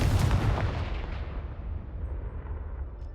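A Confringo fire spell blast in Hogwarts Legacy: a loud, booming explosion that hits at once, then a rumbling roar slowly fades over about three seconds.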